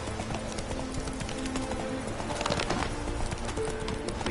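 Hooves of the horse Roach clip-clopping steadily in the Witcher 3 video game, a continuous rhythmic trot within a dense outdoor soundscape of birds and cooing doves.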